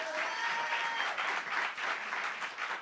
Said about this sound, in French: On peut applaudir pour ça, c'est les miracles de Dieu.